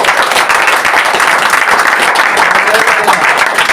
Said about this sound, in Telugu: చప్పట్లు కొట్టి ఒకసారి.